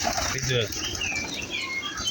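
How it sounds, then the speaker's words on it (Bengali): Pigeons feeding on wheat take off, a brief flurry of flapping wings close by with faint coos and chirps, under background noise and a voice speaking. "এর জন্য কবুতরগুলো উড়ে উড়ে গেল"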